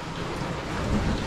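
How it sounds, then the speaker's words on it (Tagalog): Steady heavy rain pouring outside a home during flooding from Typhoon Carina, a dense continuous hiss with low rumbling, moderately loud and even throughout, with no talking. "Sana wag na lumakas yung ulan."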